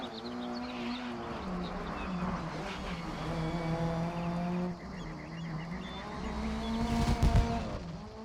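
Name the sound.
Alfa Romeo 155 race car engine in a racing video game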